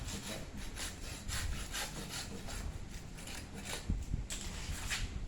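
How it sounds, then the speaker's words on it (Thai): A hand saw cuts through tree branches in quick back-and-forth strokes, a rhythmic rasping close by with no talking. "ส่วนที่เป็นเยอะแยะนี่เดี๋ยวจะเอาเลื่อยมาตัดครั้งกันนะครับ"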